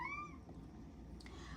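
A pet cat gives one short, quiet meow indoors, followed by a faint second call, with no talking.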